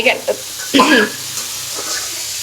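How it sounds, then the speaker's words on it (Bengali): Hilsa fish frying in a pan in a home kitchen, a soft steady sizzle with a few brief clatters and a short voiced sound near the start, moderately close. "ইলিশ মাছ ভাজি করছে"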